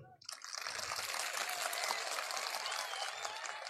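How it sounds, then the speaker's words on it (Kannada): A dense burst of applause from a comedy-show audience of men at the Koppal fair, loud and steady from start to finish after a brief quiet opening. "ಚಪ್ಪಾಳೆ ಅಂದ್ರೆ ಹೆಂಗಿರ್ತಾವ ನೋಡ್ರಿ"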